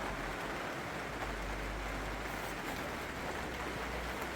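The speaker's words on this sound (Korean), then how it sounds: "오랜만에 봄비가 내리네요." Spring rain falls steadily at a remote mountain farm, an even, continuous hiss that stays constant throughout, with a low rumble underneath.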